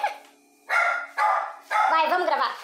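Female dogs bark excitedly in a home, giving several loud, close bursts of barking separated by short pauses.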